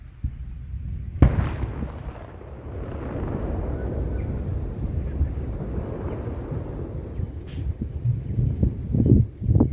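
A sharp distant boom from the Hunga Tonga volcanic eruption, heard from Tonga, is followed by a long low rumbling roar, with wind buffeting the microphone and a few thumps near the end.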